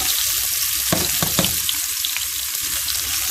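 Sliced onion and green chilies sizzle loudly in hot oil with panch phoron, a steady crackling fry broken by a few sharper pops and stirring scrapes, with no talk.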